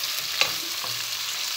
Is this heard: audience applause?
no